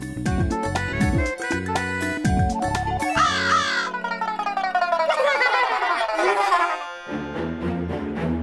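A child mimics crow caws with a string of loud, rough, nasal squawks, repeated in quick bursts, in a scene from the Hindi children's TV series Baalveer Returns.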